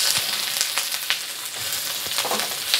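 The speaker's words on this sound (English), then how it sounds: "Adding the onions." Onions sizzling in neutral canola oil in a hot wok for soy sauce chow mein, a steady broadband hiss with occasional crackles and pops, close and continuous with no talking.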